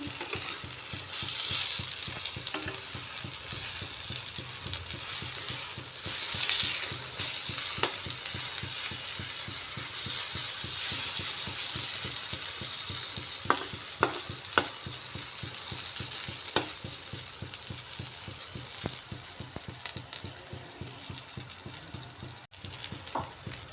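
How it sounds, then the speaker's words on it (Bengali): Eggplant slices fry in hot oil in a pan with a steady, loud sizzle and crackle, and occasional spatula clicks and scrapes as the pieces are turned. "এবার উল্টে অপর দিকটাও একটু হালকা করে ভেজে নিচ্ছি"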